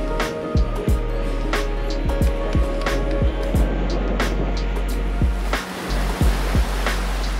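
Ocean waves surge and break against a coastal rock shelf in Royal National Park near Sydney, a continuous roaring wash broken by sharp splashes, close and loud with no one speaking.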